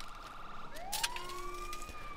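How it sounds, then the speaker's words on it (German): An ambulance siren in the GTA 5 video game wails with rising tones as it approaches, backed by steady traffic noise, with a brief loud burst partway through. "Ist das Krankenwagen? Oh ja, das ist Krankenwagen"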